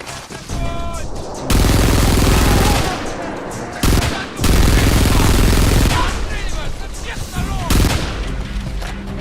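Gunfire in the military shooter video game Frontlines: Fuel of War, loud bursts of automatic fire and heavy booms in long sustained volleys with short gaps, close and dense.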